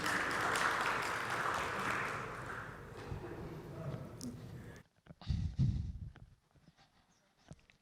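An audience at a startup pitch event applauds to welcome the founder of Lunar TC to the podium, a dense sustained burst of clapping for about five seconds that gives way to quieter scattered sounds.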